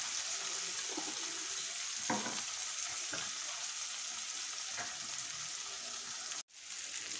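Onions and tomatoes fry in a pan with a steady, close sizzle throughout, broken by a few stirring scrapes and a brief dropout near the end.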